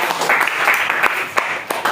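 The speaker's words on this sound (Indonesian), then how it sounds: "tepuk tangan untuk Pak" Classroom applause for a male teacher, a couple of seconds of dense, steady clapping from many students, fairly loud and close with a few sharper individual claps standing out.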